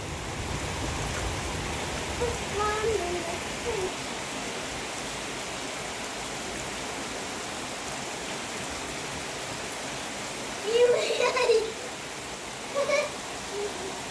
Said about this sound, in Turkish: Yağmur mu yakalıyorsun bir an?